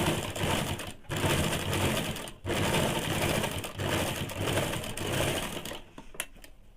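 A sewing machine stitches fabric for a semi salwar, running loud and continuous in several long bursts separated by brief pauses.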